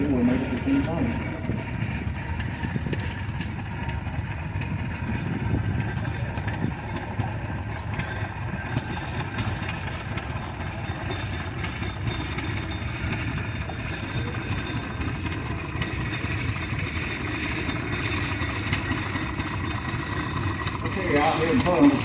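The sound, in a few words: 1918 Oil Pull tractor engine running in parade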